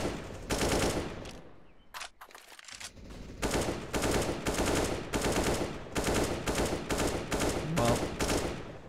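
AK-47 gunfire in a competitive video game match, rapid bursts of loud automatic fire with a brief pause early on, then repeated volleys for several seconds.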